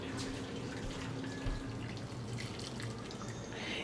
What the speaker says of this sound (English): I am just going to pour the boiling water over the red cabbage